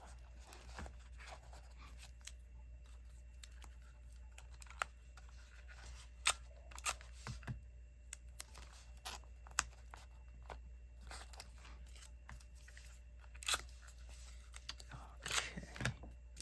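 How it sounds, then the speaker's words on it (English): Paper pieces being taped down by hand, with faint, scattered crinkles, tears of tape and soft taps under a steady low room hum, several small sharp clicks and rips toward the end. "let's go ahead and tape those down"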